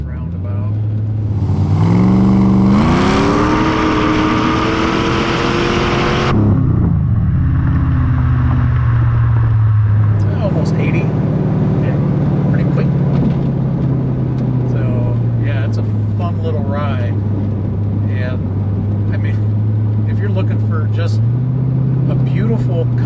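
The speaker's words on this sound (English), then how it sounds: "So we're gonna let that LS2 breathe a little bit once we get out of this roundabout." Supercharged Vortech LS2 6.0L V8 in a 2005 Chevrolet Corvette accelerating, a loud sustained engine roar rising in pitch through the gears before settling into a steady drone, with talk over it.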